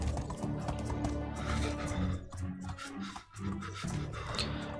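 Horse hooves and whinnying in the Medieval Dynasty game, dense thudding hoofbeats and scraping amid game sounds, loud and busy with a brief dip near the end.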